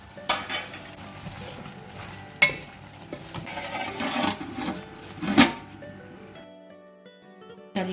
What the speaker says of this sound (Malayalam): ഏകദേശം ഒരു പത്ത് മിനിറ്റ് ആയിട്ടുണ്ട് നമുക്കിത് ഒന്ന് തുറന്ന് നോക്കിയിട്ട് ഒന്ന് ഇളക്കി കൊടുക്കണം